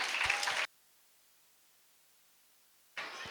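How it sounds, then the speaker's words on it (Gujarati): An audience at a school annual function claps to welcome a guest speaker. Short bursts of crowd applause open and close a stretch of near silence. "તાળીઓના ગડગડાટ સાથે સ્વાગત કરીએ"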